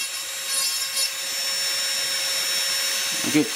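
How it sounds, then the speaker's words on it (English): A micro motor with a fine cut saw burr carves a wooden troll figure, giving a steady high-pitched whine with a continuous rough grinding rasp, close and even, and a brief heavier scrape near the end. "what do we got here in our micro motor? Okay, we've got a cut saw fine burr in there"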